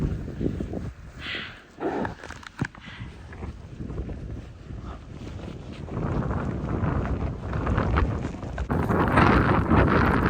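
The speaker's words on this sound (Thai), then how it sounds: "ขนาดเดินยังเจ็บเพราะลมแรง" Strong winter wind blows steadily in a snowy cold-country town, roaring and buffeting the microphone loud and close throughout with no talk.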